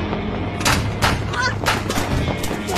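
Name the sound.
gunshot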